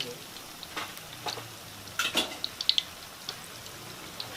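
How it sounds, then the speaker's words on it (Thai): Cempedak fruit deep-frying in vegetable oil, a steady low sizzle with several sharper crackles and pops clustered in the middle of the clip. "นี่เขาเคล็ดลับเขาบอกให้ใช้พวกน้ำมันพืชเวลาทอด"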